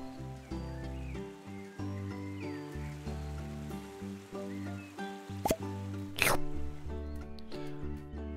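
Plants are watered in the video game No Place Like Home, heard as soft repeated watery plops and drips over a steady tonal game music loop, with a couple of sharp clicks near the end.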